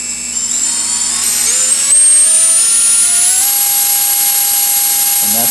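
A brand new motor spinning a propeller at quarter throttle, a loud steady high-pitched whine that rises slightly in pitch as it spins up and then holds, close and alone.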